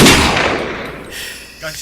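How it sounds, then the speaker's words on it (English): A single sharp gunshot sound effect with a reverberant decaying tail, followed by a faint trailing rumble, played during a podcast. "Gunshots, please. Pow, pow."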